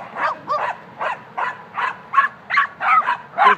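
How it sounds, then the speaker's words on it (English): A dog barks close by in a quick, steady series of about nine sharp barks with short gaps between them. "Always gotta yell, bark."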